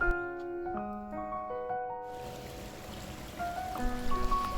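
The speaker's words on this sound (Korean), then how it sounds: "마을길 옆에는 물이 졸졸졸 흐르는 옛말로 또랑이 지나고 있습니다." A small stream trickles beside a rural village road in South Gyeongsang province, South Korea. A steady, soft wash of running water rises about halfway through, after brief chirping tones at the start.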